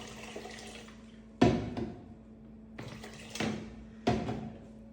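Water pours into a pan of grapes and sugar in three separate bursts, each starting abruptly and then tapering off, with a steady low hum continuing in the background between them.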